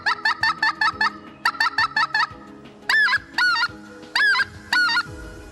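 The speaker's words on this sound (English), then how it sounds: "You can also cluck on this call by going hut, hut, hut, hut." An SP04 Specklebelly goose call blown in quick clucks: rapid groups of short, sharp honking notes, then several longer yodeling two-note calls, all loud and close with no talking.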